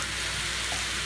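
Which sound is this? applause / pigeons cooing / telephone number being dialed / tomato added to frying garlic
tomato added to frying garlic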